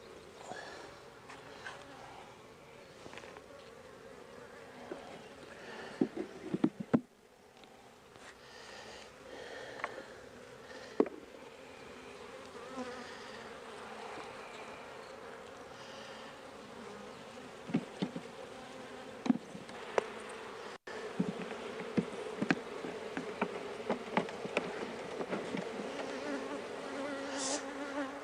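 Honey bees hum inside a hive that is being requeened, a faint, continuous buzzing drone with occasional louder passes and small knocks, with no talking.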